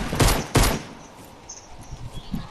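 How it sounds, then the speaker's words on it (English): AR rifle fire in a video game: two loud, close bursts of rapid gunfire at the start, then quieter game sounds and faint background noise. "And he's shooting AR ammo."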